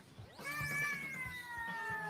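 A robot cat companion in a video game trailer gives a clear, drawn-out meow that rises and holds, close and fairly prominent over a faint rhythmic beat of music.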